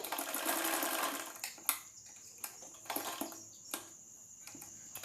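A sewing machine stitches blouse hooks and hook loops in short bursts, opening with a steady whirring run that gives way to brief clicks and pauses, fairly quiet and close by.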